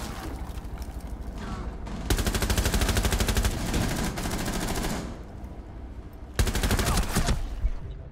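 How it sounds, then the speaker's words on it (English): Automatic weapons fire in the video game Rainbow Six comes as loud, rapid bursts. One long burst lasts several seconds, and a shorter one comes near the end, over a rumbling background. "I headshot a guy through the wood,"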